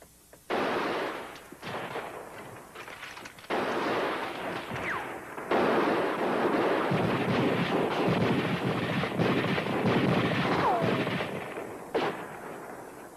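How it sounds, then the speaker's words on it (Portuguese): Rifle and gun shots ring out in a 1955 western film battle, a dense, loud, sustained volley of overlapping reports with brief lulls between bursts. "Não faz mal, atiramos, mas precisamos continuar atirando."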